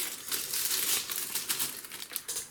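Plastic packaging crinkling and rustling up close in short, busy bursts as a small wire stripper tool is unwrapped.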